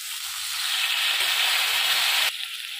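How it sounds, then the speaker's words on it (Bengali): Boiled potatoes and chickpeas drop into spiced hot oil in a kadai, setting off a loud, steady hiss that cuts off abruptly near the end, with a faint background tone beneath. "আমি এখানে যে আলু আর ছোলাটা সেদ্ধ করে রেখেছি, এটা আমি এবারে কড়ার মধ্যে দিয়ে দিলাম"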